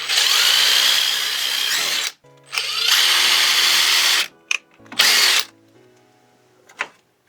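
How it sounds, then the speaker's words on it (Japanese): A power drill drills a small pilot hole for a stainless steel screw in wood: two long, loud whirring runs, then shorter bursts and brief clicks as the trigger is tapped. "このど真ん中にですね、この小さな下穴を開けることができる"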